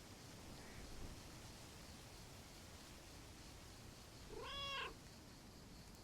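Cats in a video game: one clear, drawn-out meow rises near the end, after a much fainter earlier one, over a quiet background hiss.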